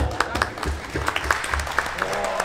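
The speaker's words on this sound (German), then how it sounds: "Das heißt, Applaus!" Crowd claps for a prize winner at a car tuning and diagnostics event, a moderate patter of scattered hands, with a voice murmuring beneath.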